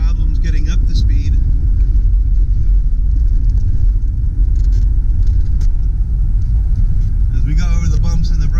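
2004 Pontiac Montana cargo van with a lowered floor accelerating on the road, a loud constant low engine and road rumble from inside the cabin, with someone talking over it at times.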